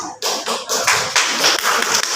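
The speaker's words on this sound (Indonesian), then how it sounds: "Tepuk tangan." Audience at a school teachers' sharing session claps hands in a short burst of uneven, close applause lasting about two seconds.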